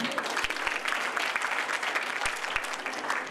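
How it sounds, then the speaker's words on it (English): An audience at a college conference in Jaipur applauds a branch manager, a dense, even burst of many hands clapping close and loud, with a few sharp thumps standing out. "So big round of applause for ma'am."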